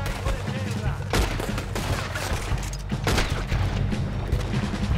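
Gunfire from a shotgun-like pistol in the video game Red Dead Redemption 2 during a battle on Guarma, a few heavy booming shots over a constant rumbling, noisy combat backdrop.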